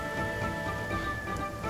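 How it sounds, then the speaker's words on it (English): Steady rain falling in the video game Genshin Impact, a continuous soft hiss of drops with a low background hum and faint tonal game sounds, heard alone without talk. "I'm actually really loving that it's still sunny while it's raining"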